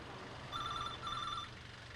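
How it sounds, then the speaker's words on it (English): A telephone rings twice in short trilling bursts, faint and somewhat distant over a low background hum, with no one speaking. "A few minutes later, the phone started ringing."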